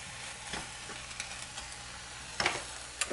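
Brown rice frying in a pan, a soft steady crackling sizzle with occasional sharper scrapes and taps from stirring, close and fairly quiet.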